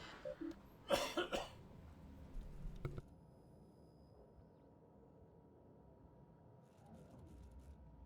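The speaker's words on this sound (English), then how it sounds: "I was coughing." A person coughs several times in quick bursts early on, loud and close, followed by a quieter throat sound before near-silence, with no talk.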